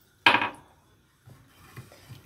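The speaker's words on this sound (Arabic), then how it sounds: "وهنفضل نقلب فيهم كويس جدا" A spoon stirs sugar into water in a pot, giving one sharp metallic clank followed by softer, quieter scraping strokes against the pot.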